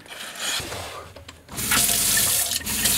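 Water gushes from an outdoor shower on a pop-top camper van, starting softer and then running at full flow in a steady hiss, close and loud.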